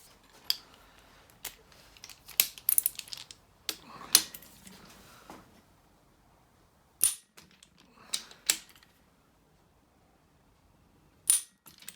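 Sharp, isolated clicks from a torque wrench tightening the main bearings of a Lotus Elan +2 engine, coming in scattered single and clustered snaps with quiet gaps between them.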